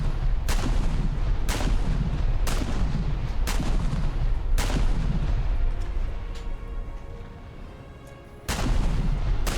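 Naval gunfire in the War Thunder video game: a string of heavy booming shots at irregular intervals, each with a rolling echo tail, a brief lull, then another loud blast.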